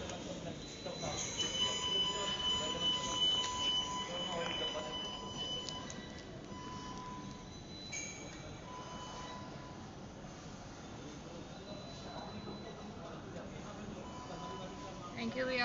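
A metro train rumbles through a station with squealing wheels and a steady rolling roar, loud at first and then easing, with faint voices in the background.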